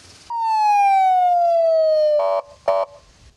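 A loud electronic boat siren sweeps downward in one long tone, then two short harsh blasts follow.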